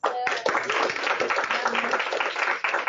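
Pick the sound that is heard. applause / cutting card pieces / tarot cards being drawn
applause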